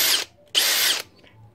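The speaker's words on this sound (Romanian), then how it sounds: "dau pregăurirea și pe urmă introduc înapoi bitul" A Makita drill whines through a pilot hole in two short, loud, close bursts with a brief gap between them, and no voice is heard.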